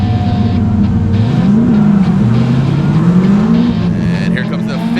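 A BMW drift car at a Formula Drift competition at Road Atlanta roars loudly with a rising and falling engine whine as it revs through the corner, while a commentator talks over it.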